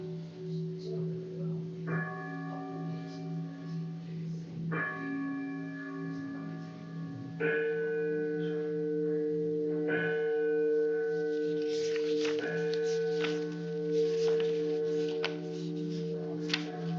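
A church bell is rung in a slow series of struck tolls, each ringing out with a long sustained hum before the next strike, the strikes growing closer together toward the end.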